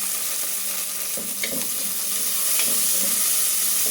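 Tomato goes into a pan of sautéed onion and garlic and sizzles in a continuous, fairly loud hiss with a few soft spatters and stirring sounds.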